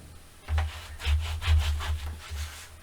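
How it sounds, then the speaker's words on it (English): Glued paper in a handmade seaside-themed mini album is burnished by hand. Several close, soft rubbing strokes follow one after another in a steady back-and-forth rhythm. "But I do want to make sure I burnish real well."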